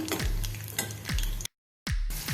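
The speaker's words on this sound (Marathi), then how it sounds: "त्याच पॅनमध्ये एक टीस्पून आपण जिरे घालूया त्याच्यानंतर थोडंसं हिंग घालूया वन फोर टीस्पून थोडंसं फ्राय करून घेऊया" Cumin seeds and asafoetida frying in a pan give a close crackling sizzle with spoon scrapes and a couple of dull knocks against the pan, broken by a brief silent gap. No one speaks.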